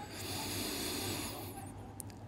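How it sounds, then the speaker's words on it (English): A long, deep inhaled breath draws in close and steady for over a second, then tapers into quieter hiss and faint background sound. "And we're going to take a final deep breath in."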